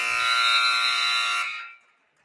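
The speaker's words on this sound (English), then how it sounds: "Eddie with the rebound to Miller at the buzzer is going to be short." A basketball game buzzer sounds at the end of the first half of a girls' high school game, one loud sustained electronic blare lasting about a second and a half, then cutting off.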